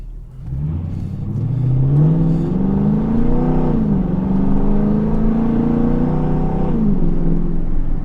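A 2003 Mercedes-Benz SL55 AMG engine rises and falls in pitch as it accelerates and shifts, a throaty whirring drone heard from inside the cabin, steady and fairly loud.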